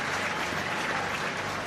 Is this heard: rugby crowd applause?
yes